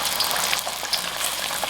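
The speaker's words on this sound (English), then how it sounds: "That popping is the water" Water popping in hot oil while rice fries in a pan, a dense close sizzle with scattered sharp crackles and pops.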